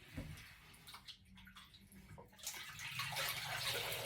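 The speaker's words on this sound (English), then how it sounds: "So I'm just gonna pop my bamboo cloth in there." A bamboo cloth is dipped into a sink filled with very hot water, giving soft close splashing and sloshing that swells into a steadier wash of running, gurgling water.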